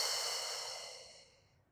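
A single long, soft breath is exhaled during a yoga stretch, airy and close, fading steadily to silence.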